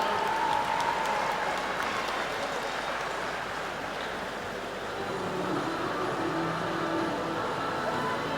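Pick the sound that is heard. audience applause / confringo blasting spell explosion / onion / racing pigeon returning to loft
audience applause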